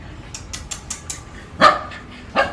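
Puppies barking close by, a quick run of high yips followed by two louder barks, with no talk over them.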